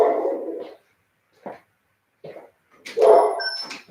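A house dog gives a loud bark, then short whimpering yips, and ends with a sharper, louder bark close by, with pauses of silence between sounds.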